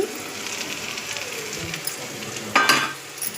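Crushed garlic goes into a hot frying pan and sizzles, a soft crackling hiss with a sharper burst of spattering near the end, fairly quiet and with no talk.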